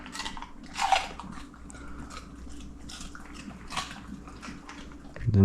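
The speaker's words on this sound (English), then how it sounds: "got an extra celery for Mr. Felix" A pet cat crunches a piece of celery in a home kitchen, making close, intermittent crisp bites and chewing over a low background hum, with no speech.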